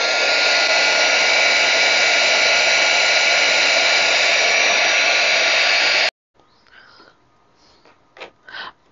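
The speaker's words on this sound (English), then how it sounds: "My embossing tool. And I use that to help dry things a little quicker." An embossing heat tool blows with a loud, steady whooshing roar for about six seconds while drying embroidered fabric for a hair barrette, then cuts off abruptly, leaving quiet rustling and soft breathy sounds.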